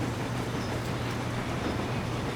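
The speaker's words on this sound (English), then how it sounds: "That's a beautiful train." A steam train runs in the rail simulation game Transport Fever, producing a steady, dense rumble and rolling wagon noise with no distinct puffs or whistles.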